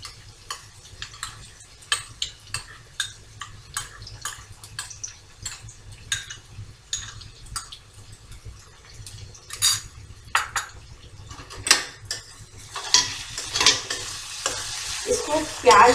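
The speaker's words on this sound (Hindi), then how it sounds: "इसको प्याज के साथ अच्छी तरह से मिक्स कर लेंगे और 1 से 2 मिनट तक भूनेंगे" Peanut paste being mixed and fried with onion, ginger, garlic and green chilli, a spoon clinking and scraping against the pan in irregular strokes over a low sizzle, growing busier and louder toward the end; nobody speaks.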